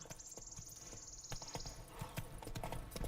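Horse hooves clip-clop at a quick, steady gallop in The Witcher 3, with a brief high-pitched tone over the first part, moderately quiet with no speech.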